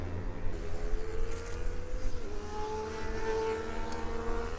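Motorbikes ridden by junior riders at a race, including an old Honda CBR 250, heard as engine drones rising and shifting in pitch as bikes pass at moderate distance, continuous and fairly steady.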